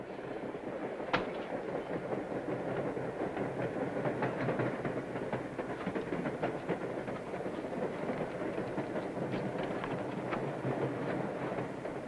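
Train running on rails aboard the Midnight Limited, a steady rolling clickety-clack with faint clanks and rumble filling the whole stretch at even loudness.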